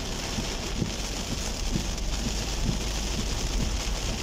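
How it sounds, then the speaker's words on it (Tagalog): Heavy rain pouring all night onto a car with no drainage nearby, a dense, steady hiss of drops drumming the roof and windshield, loud and unbroken, with no one speaking. "Magdamag ulan, sobra lakas."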